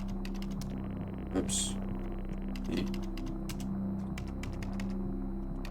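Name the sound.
typing on a keyboard in the video game Stories Untold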